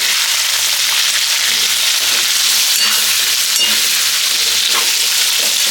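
Fish pieces coated in turmeric frying in hot oil, a loud, dense, continuous sizzle filling the whole stretch up close, with faint occasional pops and no talk.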